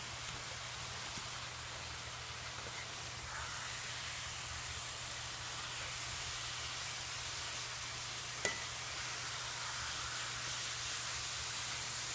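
Meat cooking in oil in a home kitchen gives off a steady, even sizzle and hiss throughout, with one faint brief tick partway through and no voices.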